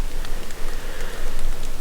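Steady rain falls in the Montana backcountry during a September elk hunt, a dense, even hiss of drops pattering close by, continuous for about two seconds with no voices.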